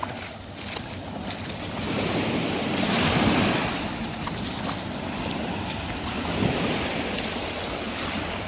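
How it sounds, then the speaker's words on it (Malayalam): Steady wash of small sea waves rolling onto a Kerala shore, a continuous broadband surf hiss with gentle swells, wind noise mixed in, no voices. "വളരെ ചെറിയ തിരമാലകൾ കാണുന്നത് ഇവിടെ"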